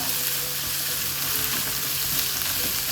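Sliced onions sauté in a pan over medium heat for a cabbage masala, giving a steady, close hiss of frying with soft stirring underneath and no talking.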